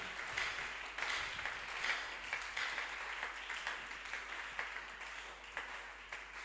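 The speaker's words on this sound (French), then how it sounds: "Acclamons très fort notre Seigneur." A church congregation applauds during a worship service, a dense, steady wash of many hands clapping at moderate distance, continuing throughout without pause.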